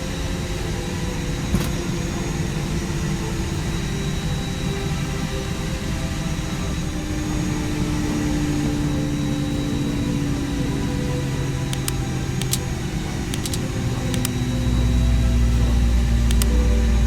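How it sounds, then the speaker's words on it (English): Airbus A320 jet engines in a flight simulator game winding down while parked, a steady loud whine and rumble with falling tones, ending in a low hum. "we need to shut down the engines"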